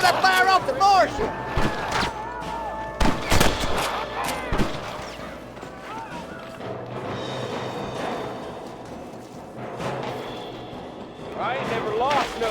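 Gunfire crackles through a Red Dead Redemption shootout, sharp shots scattered among shouting voices, loud and close with several sudden cracks.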